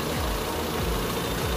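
A four-cylinder petrol city car engine idles smoothly and steadily with an even, low rumble heard close up and without any talk.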